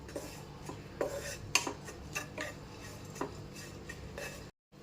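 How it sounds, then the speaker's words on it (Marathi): Grated coconut is dry-roasted in a pan with no ghee, a spoon steadily scraping and stirring with soft rasping and metallic clinks, fairly quiet and continuous before stopping abruptly at the end. "हे खोबरं असं भाजून घ्यायचं आहे तूप न टाकता भाजायचं आहे आपल्याला खोबरं"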